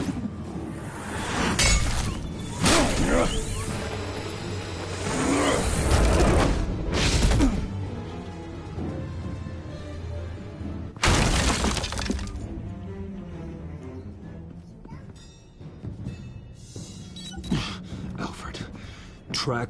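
A brutal face-smashing scene from Batman: The Telltale Series, with several heavy crashing, shattering impacts breaking through tense game music and voices, punctuated by pauses and quieter stretches between hits.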